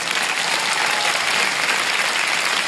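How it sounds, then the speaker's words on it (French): A short burst of applause on a podcast set, with steady, dense clapping from a small audience that holds at an even loudness from start to finish. "Alors oui, ça vaut un petit applaudissement."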